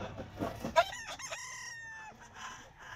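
A five-month-old Boston Roundhead gamefowl rooster at a pet market gives one full, loud crow near the start, with faint market noise and brief murmurs behind it.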